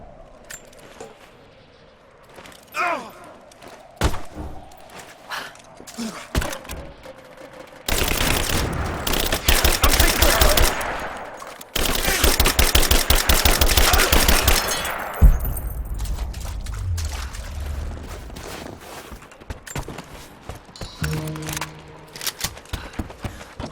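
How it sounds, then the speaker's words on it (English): Heavy automatic gunfire erupts in Rise of the Tomb Raider at a Soviet installation during a prison break: long, dense, loud volleys with a brief gap between them, followed by scattered shots and clatter as the firing dies down. "Covering fire!"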